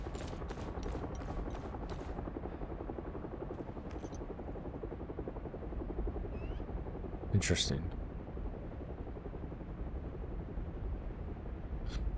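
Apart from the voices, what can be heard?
helicopter flying in video game Hell is Us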